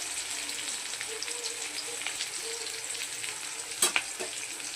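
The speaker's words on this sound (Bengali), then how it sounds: "এই যে রসুন কুচি এটা একটু ভাজা হবে" Chopped garlic fries in a pan with a steady, moderate sizzle, a sharp clatter near the end, while cooking taro leaves with hilsa fish head.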